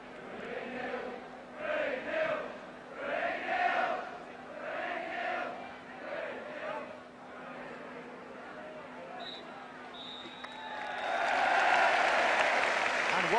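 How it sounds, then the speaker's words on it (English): Thunderous applause from a football crowd as Tottenham players leave the pitch at half-time at White Hart Lane, sustained clapping in waves with a swelling cheer near the end. "Spurs going off to thunderous applause"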